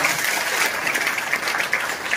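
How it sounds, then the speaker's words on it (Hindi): Dense, steady audience applause at a meeting held in a hotel, many hands clapping loudly and evenly without pause. "इतने ग्रेट मेंटर, एक जोरदार ताली होनी चाहिए।"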